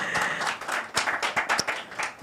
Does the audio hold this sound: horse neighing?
no